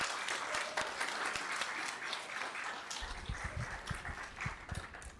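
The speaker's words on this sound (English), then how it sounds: "I think we need one more big round of applause for our students." An audience at a school district governing board meeting gives a round of applause for students. Dense, continuous clapping fills the room, with a few sharper nearby claps standing out.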